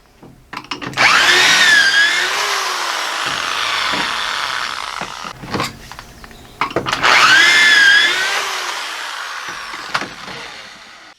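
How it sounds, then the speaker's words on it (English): A power drill whines up to speed twice in long bursts, each lasting a few seconds, drilling holes in boards, with clattering handling noises between and after. "So let me get started drilling them out."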